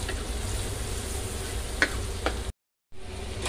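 Chopped garlic and long green chilies fry in a pan, giving a steady close sizzle with a couple of faint ticks, briefly cut off before the frying noise resumes.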